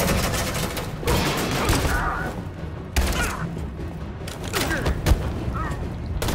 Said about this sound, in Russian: Почему один Коннор стреляет, блин?